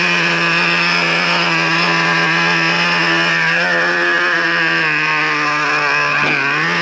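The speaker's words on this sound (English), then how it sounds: "Traxxas makes it real easy to tune up these RC cars." A Traxxas Revo 3.3 nitro RC car engine revs steadily at high pitch, a loud, sustained whining buzz that holds near constant with a brief dip near the end, close and alone.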